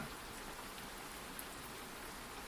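Rain falls steadily as a soft, even hiss with no breaks, faint and continuous throughout.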